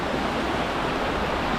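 Steady broadband rush of Whitaker Creek flowing in the Upper Buffalo Wilderness Area, a constant, fairly loud wash of water with no voices.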